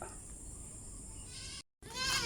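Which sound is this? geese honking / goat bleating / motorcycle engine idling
goat bleating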